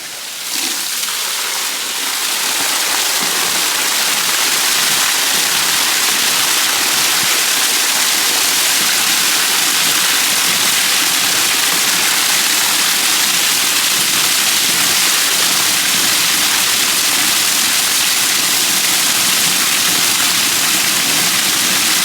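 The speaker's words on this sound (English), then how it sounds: "we're going to throw the urea into the tank and turn the water on" Water gushes loudly and steadily into a Toro sprayer tank on a Japanese golf course to dissolve urea, a constant rushing pour after a brief quieter start, with no talk over it.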